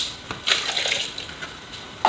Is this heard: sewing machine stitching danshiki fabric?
no